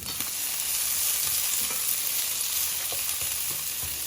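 Brisket breakfast hash fries in a single skillet with a steady, bright sizzle, close and continuous, while scraping taps of stirring come through now and then.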